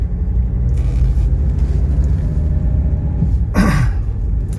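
A 1983 Mercedes 300D diesel engine rumbles steadily while driving, with a brief louder whoosh near the end during a gear shift, close and continuous.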